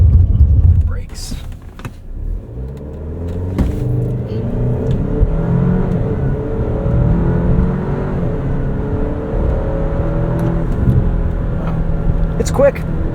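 A 2025 Alfa Romeo Stelvio Tributo Italiano AWD accelerates hard from inside the cabin, the engine note rising through several quick upshifts, loud and continuous.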